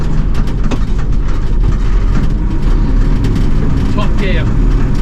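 An Army Unimog U1700 truck's engine drones loudly at close range during a skip shift from 6th to 8th gear, a dense continuous rumble with road and cab noise, and a voice briefly audible.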